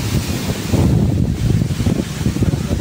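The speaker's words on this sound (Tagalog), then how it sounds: "Malakas ang hangin eh." Strong typhoon wind batters the microphone at the Manila Bay shore, roaring loud and gusty over a low rumble of surf.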